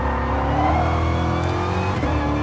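A race car accelerating in Gran Turismo Sport on the Autopolis circuit: a steady, loud engine drone climbing in pitch through the gears, heard close with no talking.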